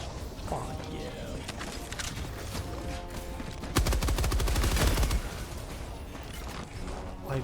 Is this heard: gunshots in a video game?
yes